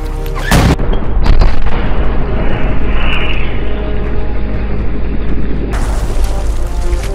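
A satchel grenade detonates in the Hell Let Loose battlefield game, a loud booming blast that gives way to a long, heavy rumbling roar lasting several seconds.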